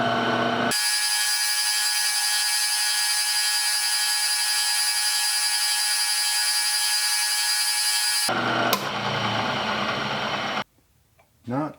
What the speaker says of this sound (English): I've got an end mill on there, and drill that guy out